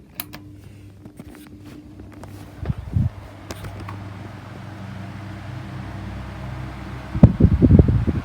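A 1990s 16-inch desk fan runs on its high speed setting, giving a steady close whir and airy rush, with scattered knocks and handling noises and a louder burst of buffeting toward the end.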